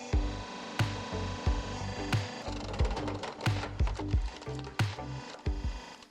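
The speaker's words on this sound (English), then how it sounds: "Powerful hydraulic technology allows the machine to process wood easily, creating uniform pieces of firewood." Hydraulic automatic firewood processing machine cutting and splitting wood, giving a steady mechanical drone with repeated knocking and thudding hits about every half second.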